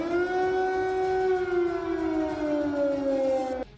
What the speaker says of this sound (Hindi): वहां के कई शहरों में खतरे के सायरन भी सुनाई दिए थे।